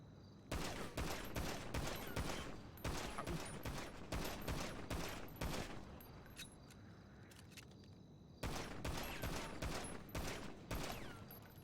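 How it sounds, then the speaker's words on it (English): Rapid bursts of gunfire in the GTA V roleplay game NoPixel during police academy training, with several dense volleys of sharp shots separated by short lulls, loud and close. "I don't know how many shots I shot."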